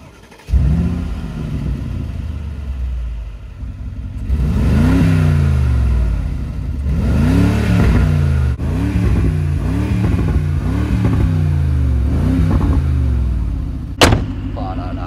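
Mercedes G500 with AMG package revving repeatedly at the exhaust tips, a series of sharp blips rising and falling in pitch, loud and close, with a short metallic clack near the end.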